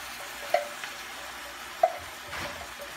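Coconut milk being stirred into a green papaya dish in a pan, a soft low sizzle with a couple of distinct spoon clinks against the pot.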